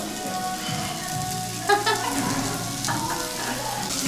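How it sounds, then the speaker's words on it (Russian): Steady close sizzling of food frying on a hot surface, with a few faint clinks and taps over the continuous crackle. "жарим себе обед"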